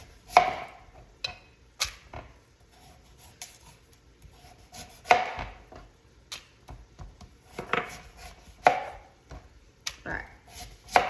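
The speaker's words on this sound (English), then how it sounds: "let's go ahead and cut that up into some dices." A knife chops a vegetable into dice for gluten-free taco soup, with sharp, irregular thuds against a cutting board spaced a second or two apart, close and fairly quiet with soft rubbing between strokes.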